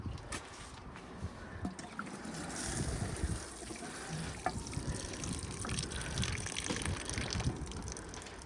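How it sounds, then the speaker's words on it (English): Water pours steadily onto garden soil around plants being tended outdoors, a continuous splashing wash that grows a little fuller midway, with light wind and no talk. "I'm going to give them some well-deserved water"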